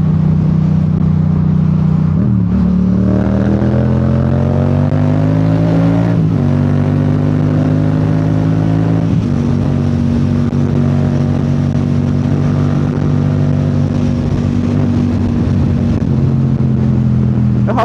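A motorcycle engine drones loudly through its exhaust, revving up and settling repeatedly in a series of sustained pitch shifts, close and continuous.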